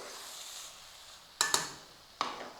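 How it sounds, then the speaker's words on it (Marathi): Carrot halwa being stirred in a pan: a soft sizzle followed by three sharp scraping clinks of the spoon against the pan, close and alone. "आपला गाजर हलवा मंद ठेवला आहे त्याला एकदा हलवून घेऊ"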